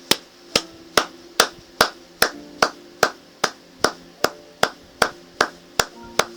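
A church congregation claps in unison, a steady beat of loud, sharp, evenly spaced claps, about two per second, with no talking over them.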